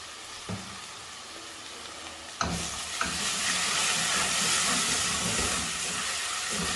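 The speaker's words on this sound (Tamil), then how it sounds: "நீங்கள் தக்காளியில் உப்பு சேர்த்து வதக்குனீங்கன்னா தக்காளி சீக்கிரமாக மசிஞ்சு வந்துடும்." Chopped tomatoes with salt sauté in a hot pan for a Tamil-style mutton salna, giving a steady wet sizzle and hiss. A spoon clacks against the pan once or twice, and the frying grows louder after the stir.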